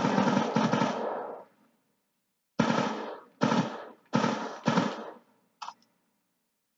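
Black Ops 2 machine-gun fire in several bursts: one long volley, then a pause, followed by four short, close, loud bursts and a final quick tap, with no talking over them.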